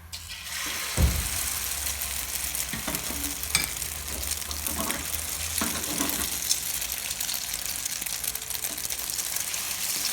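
Spoonful of beaten egg for a Bangladeshi-style egg roll frying in hot oil in a pan on lowered heat, a steady broadband sizzle running throughout with a sharp splash as it hits the oil, no talking.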